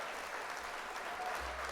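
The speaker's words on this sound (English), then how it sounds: "Let's hit the applause." A canned applause sound effect plays during a live-streamed Gundam model-building workshop: a soft, continuous wash of crowd clapping for a couple of seconds, alone and fairly quiet.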